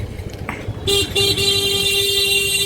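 Car horns blare in busy traffic, one long sustained honk joining others after a quieter opening, loud and close over a steady road din.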